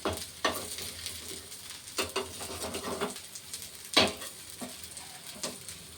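Carrot paratha fries in oil in a pan with a continuous close sizzle, broken by several scraping, clattering stirs and turns of a spatula, without talk.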